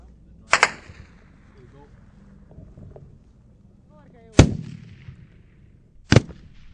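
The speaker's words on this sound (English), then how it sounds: "the shot's coming in, but the soldiers are not absolutely certain exactly where it's coming from" Gunfire rings out during a Scots Guards patrol in Afghanistan: three sharp, loud single shots, widely spaced and echoing, with faint background murmur between them.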